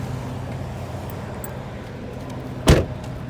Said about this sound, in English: Oh, I gotta lock the car.